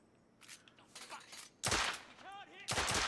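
Bursts of gunshots in the video game The Order 1886, two loud, sharp volleys standing out against quieter background rumble and scattered softer sounds.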